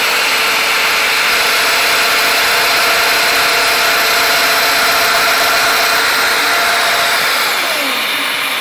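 Domino joiner running at full speed with a dust extractor connected, a loud, steady high whine and rushing airflow that continues unbroken, then begins to wind down at the end.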